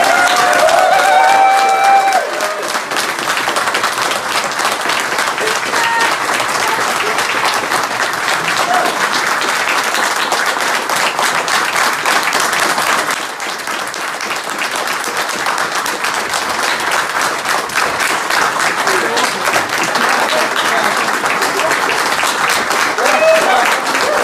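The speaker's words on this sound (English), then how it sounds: "So, can we get a round of applause for Steve, Dan, Craig, Ed, and you as well." A convention audience applauds at a prize giving, with sustained clapping from a crowd filling the room for over twenty seconds, briefly swelling and dipping midway, with some cheering and voices mixed in at the start.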